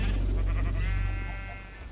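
A Minecraft sheep bleats once in a near, wavering baa that lasts about a second and then fades out, with no talk.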